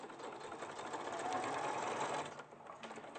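A domestic sewing machine stitches a bag with a steady, fast, continuous whir close to the microphone, ending in a brief reverse stitch, and there is no talk over it.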